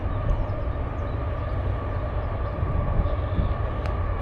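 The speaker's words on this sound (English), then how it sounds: "the train." A passing train rumbles steadily at a distance, heard from a walking trail as a constant low roar with a faint tonal whine and no talk.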